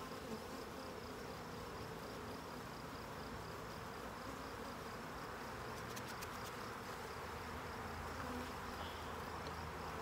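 Bees swarm around an open hive of the Saskatraz line, a dense, even buzzing drone filling the whole stretch at moderate loudness, with faint clicking near the middle and no voices.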